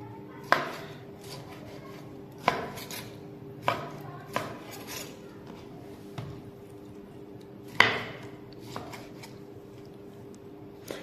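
Raw liver being cut with a knife on a board for a kaleji karahi, giving sharp, irregular chopping knocks about every one to two seconds, close and clear with no talking.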